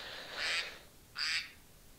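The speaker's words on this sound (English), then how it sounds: "The duck is going nuts." A duck in the video game Minecraft gives two loud, raspy quacks about a second apart, close and clear, with no talking.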